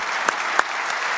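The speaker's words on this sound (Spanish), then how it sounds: "Un aplauso, por favor, para él." Applause from a conference audience after a speaker finishes, a steady wash of clapping with a few sharper claps standing out, no talking over it.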